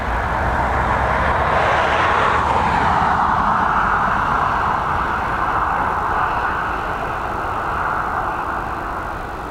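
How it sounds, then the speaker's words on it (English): A Boeing 737 MAX on approach into Dublin, a continuous mid-distance jet roar that swells and then slowly fades as the aircraft passes. "we've got this 737 MAX on its way in from Kerry"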